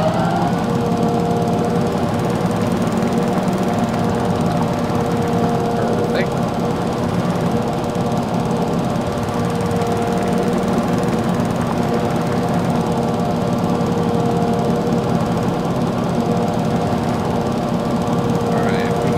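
A lawn mower engine in a lawn care role-play video game drones steadily and close while it cuts an overgrown lawn at a fire department. The noise holds unbroken and rough throughout.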